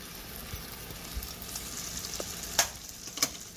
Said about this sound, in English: So add your vegetables.